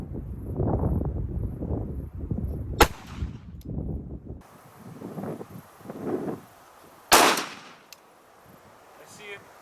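A .45 ACP pistol firing a 210 grain round outdoors, two sharp loud reports a few seconds apart, with wind buffeting the microphone and a voice talking between shots.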